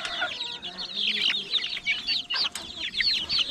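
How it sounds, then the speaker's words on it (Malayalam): Young chicks in a new brooder cage cluck and cheep in a busy, overlapping chorus, close and moderately loud, with a steady farmyard murmur underneath. "കോഴിക്കുട്ടികളൊക്കെ നോക്കി കണ്ടോ"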